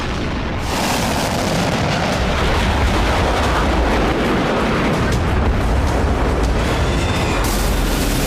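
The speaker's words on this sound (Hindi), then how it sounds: "हारेम में इतने जोरदार धमाके हुए कि पूरा शहर दहल उठा।" Airstrike explosions on the town of Harem in Syria, a continuous loud roaring rumble of blasts with heavy low-end booms rolling on throughout, no clear gaps between them.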